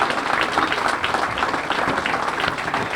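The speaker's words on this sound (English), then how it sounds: "I want to give a round of applause" An audience at a park dedication applauds, a dense, steady patter of many hands clapping together at moderate volume for a few seconds.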